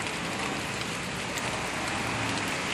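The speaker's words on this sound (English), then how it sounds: "Look at all this rain." Heavy storm rain pours steadily in New York City, a dense, continuous hiss of drops on surfaces with no letup, loud and close throughout with no voices.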